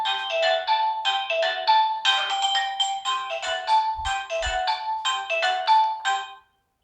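A melodic phone ringtone plays during a maths lesson as a bright, repeating electronic tune that goes on steadily for several seconds before it cuts off abruptly.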